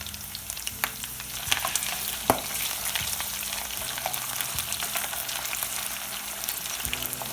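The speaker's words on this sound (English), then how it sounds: "just let this fry till it's a little bit golden brown." Onion, garlic, green chili, pandan and curry leaves with fenugreek seeds sizzle and crackle steadily in hot oil, with a few sharper pops and occasional stirring scrapes, heard alone without talk.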